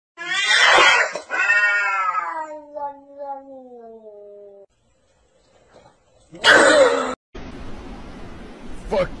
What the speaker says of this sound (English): Oh, the cat. Yeah, she's annoying.